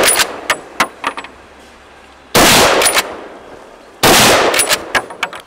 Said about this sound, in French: je préfère tirer 2 balles, essayer de mettre 2 balles propres